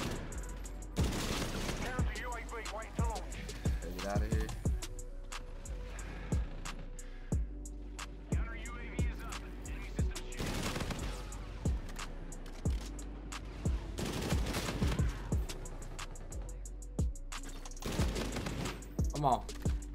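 Gunfire from the Atlas first-person shooter video game rings out as repeated sharp shots and short bursts, loud and close throughout. A player talks over the shooting.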